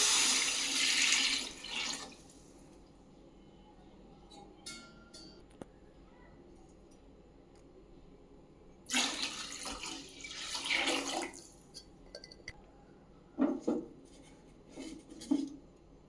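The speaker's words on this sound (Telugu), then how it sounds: "ఇప్పుడు వాటర్ పోసుకోవాలి." Water is poured into a cooking pot for vegetable biryani, giving a loud splashing pour at the start and another stretch of pouring and splashing midway, with quieter clinks and handling sounds between.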